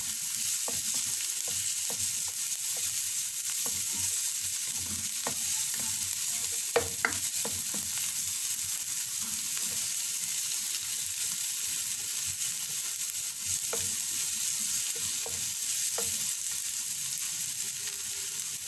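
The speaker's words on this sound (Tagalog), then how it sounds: "Silod natin yung garlic para hindi siya masunog." Garlic sizzling in oil in a pan for pork and beans pochero, with a constant frying hiss and irregular scraping and clicking from stirring, close and steady with no talking.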